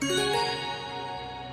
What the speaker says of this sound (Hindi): उसके गले की घंटी टन टन टन बजने लगे